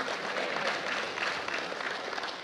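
A crowd claps together in a dense, continuous patter of applause at moderate distance, with no voices standing out.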